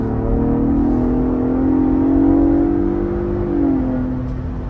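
A Ford Bronco Raptor's engine accelerates hard in a sustained rising drone from up close, the pitch climbing and then easing slightly toward the end, with no talk over it.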